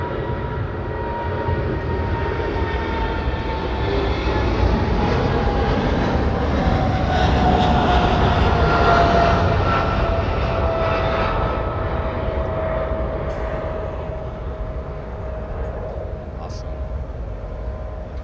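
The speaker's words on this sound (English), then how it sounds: "We have a 330. We have this one heading to Manila." Airbus A330 airliner jet engines produce a broad steady roar that swells and fades over the stretch, with a faint whine on top and no talk over it.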